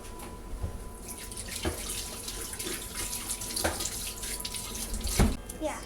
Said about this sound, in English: you should wash your hands because you are going to be using your hands for this